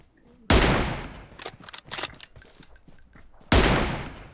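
PUBG Mobile gunfire: two loud, sharp blasts with long decaying tails open and close the stretch, and quieter scattered shots crackle in between, with no talking.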